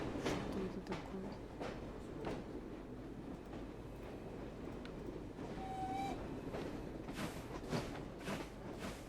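A slow steam train rolls past in a Victorian London street scene, its steady rumble and faint rail clatter continuous beneath chatter, with a brief whistle-like tone partway through.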